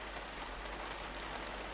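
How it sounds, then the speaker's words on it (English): Rain falls steadily on a surface, a constant close hiss of drops with a low rumble underneath and no speech. "It's raining."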